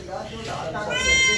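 A Pakistani goat gives a single wavering bleat, close and fairly loud, rising in pitch over about a second, with a voice talking underneath.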